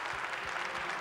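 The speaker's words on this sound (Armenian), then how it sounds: "ծափարությունները շարունակվում են Ալլա Լևոնյանին, Արա Հարությունյանին և Սուսաննա Խաչատրյանին" Audience applause for Armenian performers Ara Harutyunyan and Susanna Khachatryan, a steady, fairly soft wash of clapping from a crowd sustained throughout with no talking.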